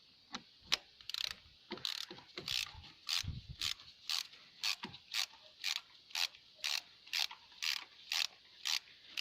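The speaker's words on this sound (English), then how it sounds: "So we can get the ratchet back on." A ratchet tightens a spark plug on a Rover 45 KV6 engine, clicking in a steady, fairly close series of short rasping strokes, irregular at first and then evenly paced, with no talking.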